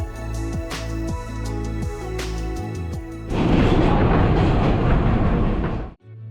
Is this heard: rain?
no